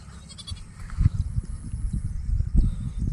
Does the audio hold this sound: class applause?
no